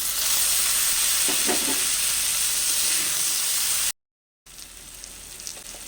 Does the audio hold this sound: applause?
no